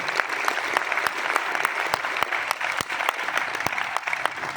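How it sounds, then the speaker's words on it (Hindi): Loud, dense applause from an audience at an RCM World leaders' stage event in Bhilwara, steady clapping filling the hall for several seconds with scattered sharper claps standing out. "उनके लिए एक बार जोरदार तालियां हो जाए"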